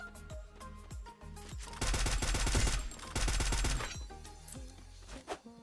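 Bursts of automatic gunfire from a battle in the mobile shooter Free Fire, rapid rattling volleys lasting a few seconds with a short gap between them, over scattered single shots and game sounds, loud and close.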